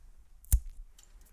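A homemade Cheez-It style cheese cracker snaps once, a single sharp close crunch followed by faint crumbly crackles, with no one talking.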